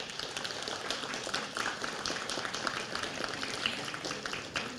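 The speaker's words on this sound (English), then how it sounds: "let's give those who supported you a round of applause" Sustained applause from a large crowd at a nursing pinning ceremony, dense and even, holding steady throughout without pause.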